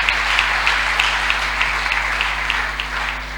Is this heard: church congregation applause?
yes